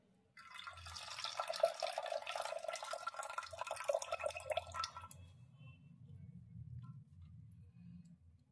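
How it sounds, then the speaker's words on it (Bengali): Water soaking tamarind is poured off into a sink, splashing steadily for several seconds before giving way to a softer, lower trickle and faint handling sounds. "তেঁতুলের এই উপরের জলটা আমি ফেলে দিচ্ছি"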